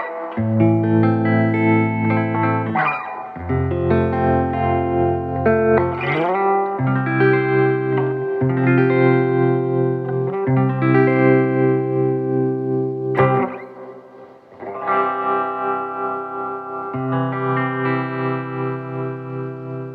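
A Fender Vibrolux Custom 68 reissue amp puts tremolo on electric guitar, with intensity and speed both at 4: loud sustained chords and notes pulse in a steady wavering throb, with a short dip near the end and no talking.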